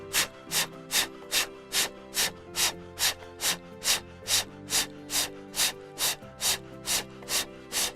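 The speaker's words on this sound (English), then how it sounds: "Let's do breath of fire again." Rapid, evenly spaced forceful nasal exhalations of breath-of-fire yoga breathing, about two per second, close and steady for the whole stretch with no talking.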